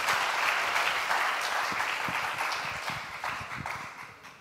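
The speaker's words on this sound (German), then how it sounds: "Und Applaus." Audience applause at a Jugend hackt youth hackathon in Munich, steady dense clapping from a crowd that gradually thins and fades toward the end.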